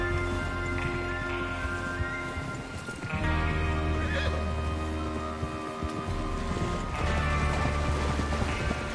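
Horses whinny and neigh with clip-clopping hooves in the Red Dead Redemption 2 video game, a steady layered din of several animals up close with no talk over it.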